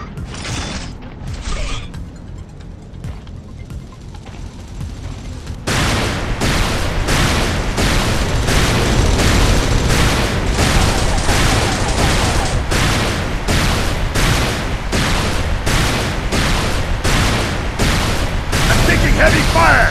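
Heavy gunfire and explosions in an Unreal Tournament 3 Warfare match on the Islander map: a few sparse shots, then a loud, sustained, rhythmic stream of rapid blasts and booms that runs to the end.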